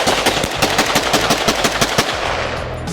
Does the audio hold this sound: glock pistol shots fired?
yes